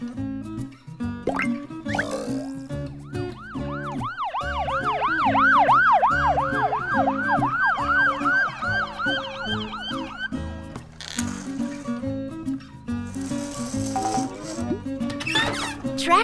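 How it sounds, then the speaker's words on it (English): Police car siren wailing in repeated rising and falling sweeps, loud and close, over a steady musical backing, then stopping midway as other playful sounds follow. "Police car."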